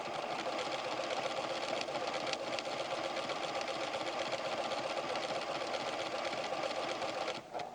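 A 1994 PFAFF creative 7550 sewing machine stitches continuously with the twin needle key engaged, a dense steady whir at close range that stops briefly just before the end.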